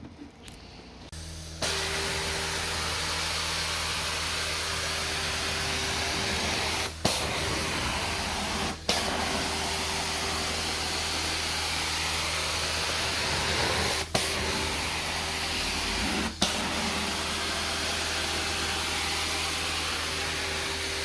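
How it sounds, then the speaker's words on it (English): A carpet cleaner canister is rinsed out with water, giving a steady, loud rush of running water with a faint hum beneath. It holds throughout and is broken by a few sharp clunks. No one speaks. "So I'm gonna get this rinsed out and dried out for the next one."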